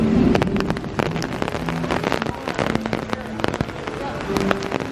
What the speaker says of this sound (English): Oh yeah, it's a good downpour.